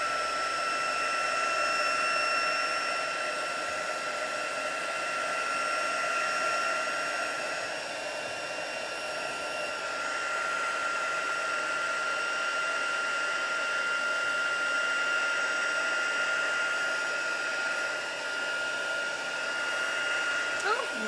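A hair dryer drying paint on an art journal page runs at a steady, close whirring hum with a high whine and no breaks.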